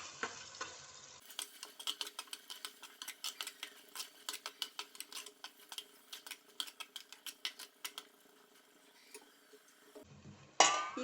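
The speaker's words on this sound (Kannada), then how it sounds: "ಇದರೊಂದಿಗೆ ಸ್ವಲ್ಪ ಫ್ರೈ ಮಾಡ್ಕೊಳ್ಳೋಣ ಮಸಾಲ" Masala frying in a pan for Mangalore-style fish curry, with a quiet sizzle under rhythmic clinks and scrapes of a metal spoon stirring steadily.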